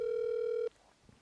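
A single outgoing telephone ring tone sounds loud and steady for well over half a second, then cuts off abruptly into quiet line noise.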